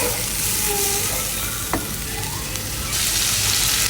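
Shrimp cooking in a pan produce a continuous, bright sizzle at close range, broken by one sharp utensil knock partway through.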